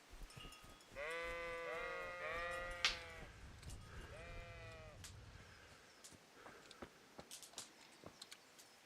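Several sheep bleat in a row in the video game Kingdom Come: Deliverance, loud and close, followed by soft footsteps on the ground.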